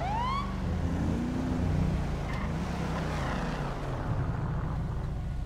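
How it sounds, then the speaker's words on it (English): Police car siren from the video game GTA 5, a rising wail sweeping upward at the start and then settling over a steady drone of engine and traffic noise, moderately loud and continuous with no talk. "I don't know how to put the sirens on."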